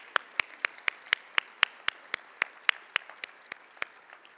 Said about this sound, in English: again allow us to give you a big round of applause